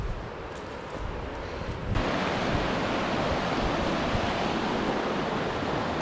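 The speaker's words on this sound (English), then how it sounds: "This is the craziest river" A rushing river in Algonquin Park during a soaking wet day, a steady broadband roar of water that surges louder after a couple of seconds and then holds constant, close and continuous with no talking.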